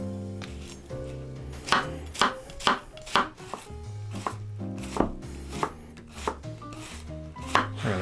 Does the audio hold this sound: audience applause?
no